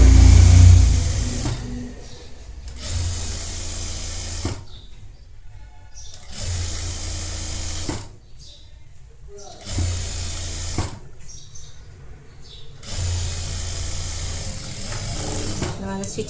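A sewing machine stitches a netted blouse in several whirring runs separated by brief pauses, with someone speaking between and over the bursts.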